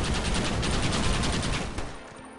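A Gatling gun firing in the western game Red Dead Redemption, a loud, rapid rattling burst that cuts off after about two seconds, with no talk.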